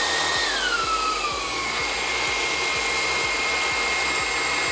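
A Dreame T30 cordless stick vacuum runs steadily in eco mode, a close, even whine with a faint rhythmic pulsing underneath and no speech.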